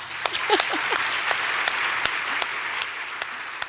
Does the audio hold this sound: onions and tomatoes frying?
no